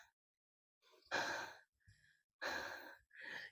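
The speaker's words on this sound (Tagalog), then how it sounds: "Hingal." Heavy, breathy panting from a senior hiker climbing a high mountain in the Philippines, coming in several separate close exhalations with short pauses between them.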